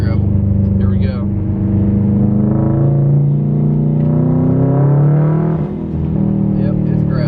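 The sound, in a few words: Subaru STI driving on a gravel road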